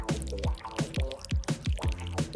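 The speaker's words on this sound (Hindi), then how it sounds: "सबसे पहले हम हनी डालेंगे।" Honey poured into a bowl makes a close, loud series of sticky, dripping plops at a steady rhythm, about two each second, with no talking.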